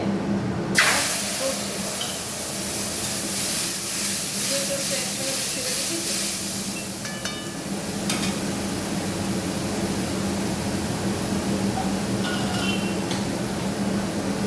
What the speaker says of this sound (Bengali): ওই তেলের মধ্যে আমি দিয়ে দিলাম একটা শুকনো লঙ্কা, তার এবার দিয়ে দেবো জিরে